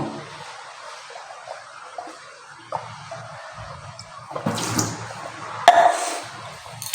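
Water drips and splashes indoors in a rented room in Arunachal Pradesh, a few soft irregular drops over a quiet background, with a louder splashing burst near the end.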